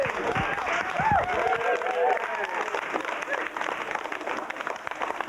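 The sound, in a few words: studio audience applause after stand-up set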